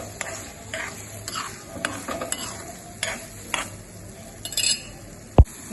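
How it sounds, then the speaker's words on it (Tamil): Leftover chicken stirred in a frying pan, a spatula scraping and clinking against the metal in irregular strokes over a low sizzle, ending with one sharp knock. "இப்போ இதை மெல்ல கிளறி விடணும்"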